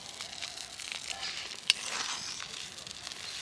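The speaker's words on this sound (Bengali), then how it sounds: "একদম লো আছে এইভাবে ফোটাতে হবে তেলটাকে" Aloe vera gel simmers gently in hair oil over a very low flame, giving soft, faint crackles and sizzling pops, with one sharper snap standing out near the middle.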